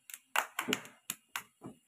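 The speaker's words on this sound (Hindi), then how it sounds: "ताली मार दिया।" Children at an anganwadi clap their hands in a few quick, close, uneven claps, some single and some in pairs, fairly quiet with silence between them.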